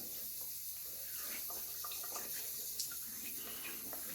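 Tap water runs steadily at a low level, with faint splashing and dripping as hands rinse shaving foam from a face under it.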